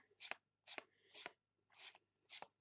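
Five short, crisp riffling bursts of tarot cards being shuffled, evenly spaced with quiet gaps between, close and fairly soft.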